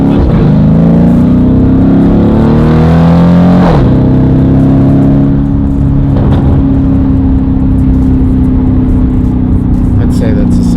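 A tuned Lamborghini Urus V8 with a downpipe and transmission tune accelerates hard, its loud engine rising through gears with a sharp shift about a third of the way in before a sustained, powerful drone.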